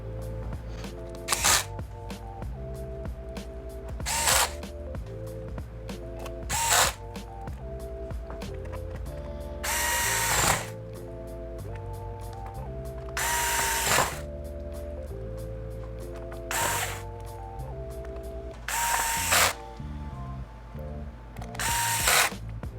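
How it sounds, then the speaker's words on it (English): Screws driven into the bottom cover of an HP Chromebook 14 G7 laptop, heard as about eight short whirring bursts of a powered screwdriver, spaced a few seconds apart, close and fairly loud over a low steady background. "flip it onto its back side and put the screws back into the bottom cover"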